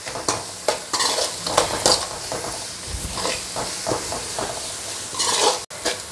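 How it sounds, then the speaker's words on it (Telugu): Sliced onions fry with turmeric powder in a pan for a Telugu fish gravy, a steady close sizzle broken by repeated scraping stirs of a utensil against the pan, with no talking. "ఎర్రగడ్డ వేగాలి బాగా"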